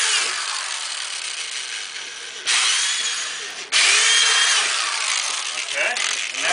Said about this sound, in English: now we got to drill our holes. Take a 1/4-inch drill bit?